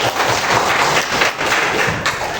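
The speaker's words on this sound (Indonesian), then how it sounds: "Tepuk tangan dulu." A class gives a student a round of applause in a classroom at Universitas Sriwijaya, with dense, continuous clapping from a group of people, fairly close and steady for a couple of seconds, and no talking.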